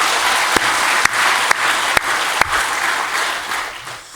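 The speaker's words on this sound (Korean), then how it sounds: "다시 한번 우리 하나님께 감사의 박수 올려드리겠습니다." A church congregation gives a round of applause during a family worship service, a steady wash of clapping throughout with a few sharp, louder claps standing out.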